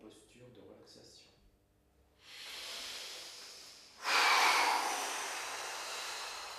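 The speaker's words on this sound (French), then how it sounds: "Nous commençons par faire une grande respiration" Deep, long breath taken during a sophrology relaxation exercise: a soft breathy inhale swells, then a louder, fuller exhale rushes out, close and alone with no talking over it.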